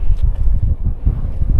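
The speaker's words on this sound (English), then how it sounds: "Bit windy up here now." Strong wind blows across an exposed hilltop on Alphin Pike, buffeting the microphone with loud, low gusty rumbles in irregular surges.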